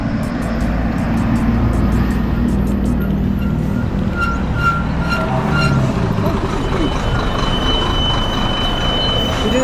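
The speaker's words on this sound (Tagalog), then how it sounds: "Abutan kami ng train." A train rumbles past loudly nearby with squealing wheels, heard from a vehicle on a road amid traffic noise, as people talk over it.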